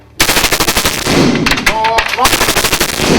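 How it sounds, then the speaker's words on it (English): Real MP5A3 submachine guns fire fully automatic bursts on a movie set, loud rapid crackling volleys close by with brief pauses between strings. "We have approximately 4 real MP5A3 submachine guns."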